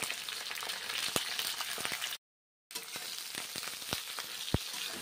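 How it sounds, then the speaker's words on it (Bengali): Salted, turmeric-coated eggplant pieces frying in oil in a pan, a soft continuous sizzle punctuated by scattered crackles and pops, with one brief silent gap midway. "ভেজে নিচ্ছি"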